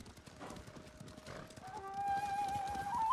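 Horses in Ghost of Tsushima clop along with steady hoofbeats, a whinny rising over them, while low game music and ambience swell beneath, moderately near.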